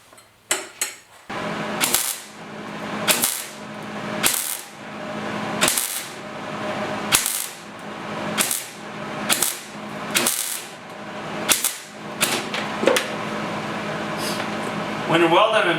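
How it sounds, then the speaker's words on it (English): Rust repair welding upside down on a 1939 Chevy two-door, a regular series of loud crackling bursts, each lasting about a second with short gaps, close up, with someone talking between some of them. "I'm gonna be welding upside down"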